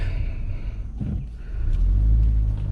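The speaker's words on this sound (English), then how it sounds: "Let's just do normal acceleration as you just normal would be driving it." A 2013 Nissan Altima with a CVT transmission accelerating normally: a steady low engine rumble building smoothly with no shift breaks, heard from inside the car.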